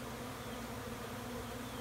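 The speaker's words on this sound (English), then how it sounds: "I don't like to disturb the bees too much" Honey bees buzzing around an open backyard hive during a light inspection, a dense, even drone held close and steady throughout, with no voices.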